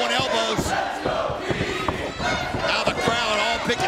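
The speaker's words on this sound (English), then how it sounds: "They're chanting and cheering for all three of these individuals" Wrestling arena crowd at a pro wrestling event chanting and cheering in a loud, continuous roar, with rhythmic shouts and sharp impacts punctuating the din throughout.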